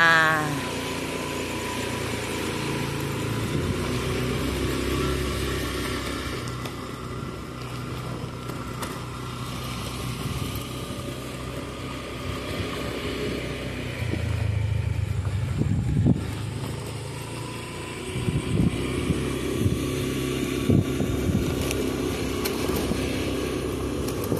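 A motorcycle ridden at night, its engine running steadily and close with a continuous drone and small shifts in pitch over the whole stretch, no talk heard.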